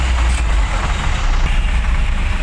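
Heavy trucks roll past on a busy road at Kasimedu, Chennai, a steady loud low engine rumble filling the whole stretch with no pause.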